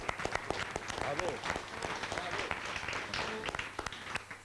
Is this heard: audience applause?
yes